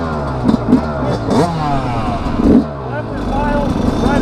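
A Sherco 300 SE Factory Edition two-stroke motorcycle engine revs in quick, sharp bursts with a rising and falling tone. Brief talk is mixed in, and the sound is loud and close.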